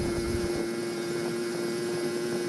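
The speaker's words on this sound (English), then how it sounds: "especially at idle or at low throttle, it seems to have a little bit of piston chatter" A 1980 Honda Express moped, a barn find, idles with a steady, close droning hum and a faint busy ticking underneath, continuous and even with no voices.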